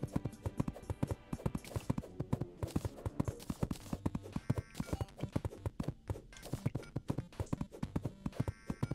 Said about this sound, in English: It just sounds like a horse running